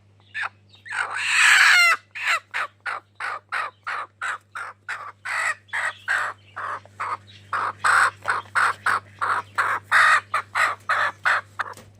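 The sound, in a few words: hen clucking while being taken out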